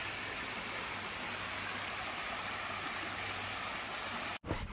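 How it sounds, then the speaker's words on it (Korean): A tall waterfall along a mountain trail gives a steady, dense roar of rushing water that fills the scene evenly, cut off abruptly at the end. "그래도 꽤 높은 폭포인데"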